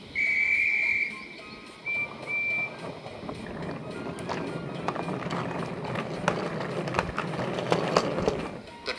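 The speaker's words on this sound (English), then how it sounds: "She waited impatiently for the guard's whistle." A railway guard's shrill, steady whistle blows for about a second, then two shorter blasts follow, before a busy, clattering background of rumbling train noise takes over.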